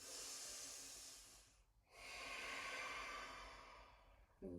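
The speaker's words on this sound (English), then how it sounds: "breathe in, breathe out, breathe in, breathe out" Slow, deep yoga breathing during a core flow, an audible breath with a steady broadband hiss that fades to near silence around two seconds, then returns in a long second breath, close and alone with no talk.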